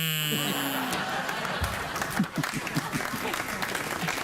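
Studio audience applause on a late-night talk show, a dense steady patter of clapping sustained throughout and heard alone at a moderate level.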